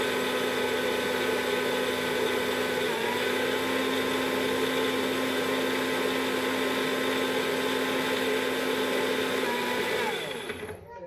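A kitchen mixer grinder whirs steadily at high speed, grinding fresh coconut chutney with a little water, loud and continuous for about ten seconds before winding down at the end.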